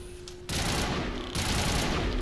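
A dense, loud roar of continuous gunfire fills the scene in Mass Effect, two sustained bursts aimed at a roof, one starting abruptly after a short quiet lead-in.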